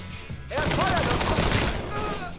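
A Thompson submachine gun fires in Mafia 3, set in 1968, a dense rapid burst of loud shots lasting about two seconds after a brief quieter lead-in, with a voice briefly audible.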